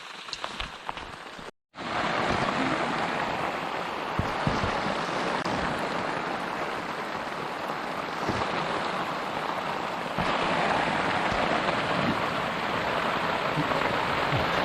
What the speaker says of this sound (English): Raining now, mind, which doesn't matter really,